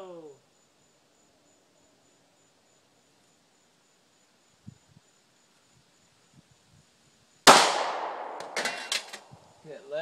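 A single Glock pistol shot cracks out sharply, loud and close, after a long quiet stretch with faint insect chirps, followed by a ringing echo and a few clattering sounds.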